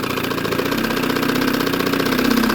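A 1961 Johnson 10hp tiller outboard boat motor idles loud and close, a continuous even drone with a fast underlying chug and no pauses.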